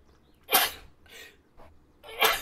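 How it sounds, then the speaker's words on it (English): A person sneezes a few times in quick succession, sharp breathy bursts of uneven strength, close and loud with no talk around them. "Oh, I gotta sneeze."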